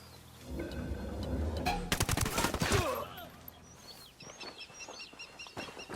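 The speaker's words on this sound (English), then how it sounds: "I'm shooting these fuckers." Gunfire in the video game Ghost Recon Wildlands: a burst of rapid automatic shots in the middle, with bird calls chirping before and after in an outdoor game setting.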